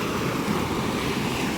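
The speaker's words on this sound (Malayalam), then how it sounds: "വെള്ളം നല്ല വെള്ളം കേട്ടോ, നല്ല ശക്തമായ വെള്ളമാണ്," A flooded river rushes powerfully under a small bridge, a loud, continuous roar of churning water that fills the scene without pause or speech.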